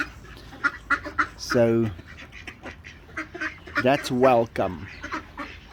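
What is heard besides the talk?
ducks quacking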